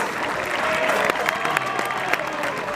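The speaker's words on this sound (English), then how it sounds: "There's an alright wee crowd in here tonight" Crowd at a Scottish Championship football match between Alloa Athletic and Arbroath, a steady wash of clapping and crowd murmur with scattered sharper claps, moderately near.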